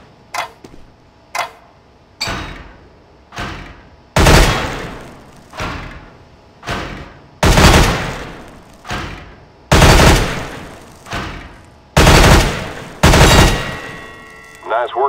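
Gunfire on a CS GO weapons training course, a series of sharp close single shots and short bursts, each followed by a decaying echo, spaced by brief pauses.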